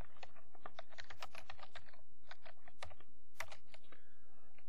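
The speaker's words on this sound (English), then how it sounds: "we're going to type our name" Quick, steady keystrokes on a computer keyboard as a name is typed into a spreadsheet, close and clear with no talking.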